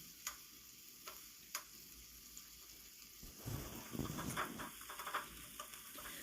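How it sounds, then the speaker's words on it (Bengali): Onions fry in oil while cooking chingri kachur loti, a soft, faint sizzle with a few sharp ticks early on, then a louder stretch of stirring and scraping in the pan partway through. "পেঁয়াজটা লাল লাল করে ভেজে নিই"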